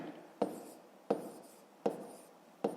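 Pen or pencil writing maths figures on paper for a fifth-grade exercise: four distinct stroke bursts, each opening with a crisp tap and trailing into a soft scratch, close and quiet, with no voices.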